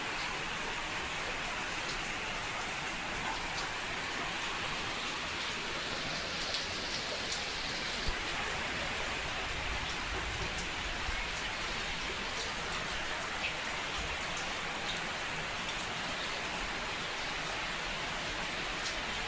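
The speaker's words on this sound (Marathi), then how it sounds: "पाऊस काही थांबायचं नाव घेत नाही" Steady rain pours down without a break, a dense, even hiss of drops hitting surfaces nearby, holding at the same level from start to finish with no voices.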